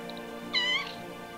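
A single drawn-out cat meow, clear and close, rises briefly over a quiet, steady background hum.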